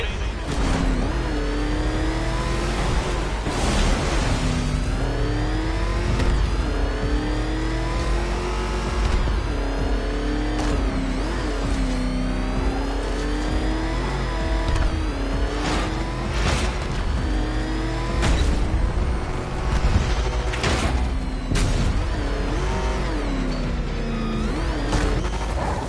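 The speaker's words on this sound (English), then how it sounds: "Can that ramshackle motor handle this?" Batmobile engine in the video game Batman Arkham Knight, revving and surging loudly throughout with rising and falling pitch, mixed with game effects, music and voice dialogue.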